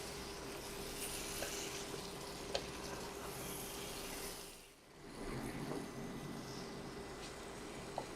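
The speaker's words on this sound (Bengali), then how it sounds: "মাংসটাকে খুব ভালো করে কষিয়ে নিব।" Small pieces of mutton or beef with bone and oil frying in a pan, a faint, steady sizzle with a brief dip midway and occasional soft clicks.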